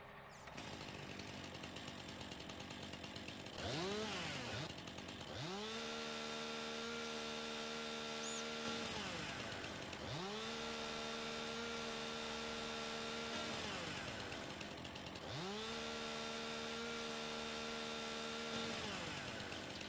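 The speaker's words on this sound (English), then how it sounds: "Stump removal via chainsaw." A chainsaw in the video game Farming Simulator 19 cuts away tree stumps, its engine repeatedly revving up into a sustained high whine and dropping back to idle, three long cutting bursts in steady succession.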